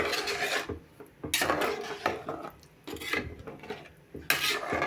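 A spoon scrapes and stirs ground masala with water in a metal pot for brinjal sambar, repeated rasping strokes in bursts with short pauses between them, close and fairly loud.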